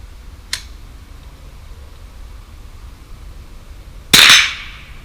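Two reports from a Ruger 10/22 rifle firing at steel plates: a faint, short crack first, then a much louder, sharp bang a few seconds later that rings and fades briefly, with quiet outdoor air between them.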